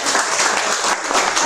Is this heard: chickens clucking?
no